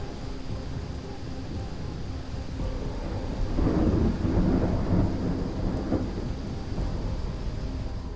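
Heavy monsoon rain pours steadily on flooded streets in Surat, with a deep roll of thunder building in the middle and rumbling on, no voices.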